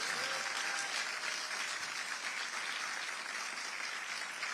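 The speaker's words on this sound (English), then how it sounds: "Let's give them all a round of applause." Dense, steady applause from a large crowd at a political press event honoring hospital staff, sustained clapping that fills the room without a break.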